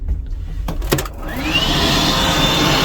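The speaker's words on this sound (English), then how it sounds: "you have your 1970s hair dryer" A steady whooshing motor hum starts after a few clicks and knocks, then runs continuously and fairly loud: a 1970s hair dryer blowing, aboard the Disney Magic cruise ship.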